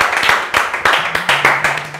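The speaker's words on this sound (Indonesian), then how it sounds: "tepuk tangan dong." A small group clapping for a guest on a talk show, loose uneven hand claps in bursts close by, with a faint sustained tone running underneath.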